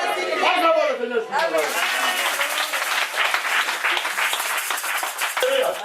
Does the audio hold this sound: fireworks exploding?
no